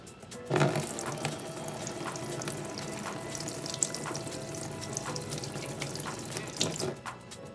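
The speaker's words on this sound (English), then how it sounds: "Now we're going to rinse it with the distilled water to make sure that there's no spotting or streaks." Distilled water rinses over a telescope part during cleaning, a steady close splashing stream from start to finish with a few louder spatters and no talk.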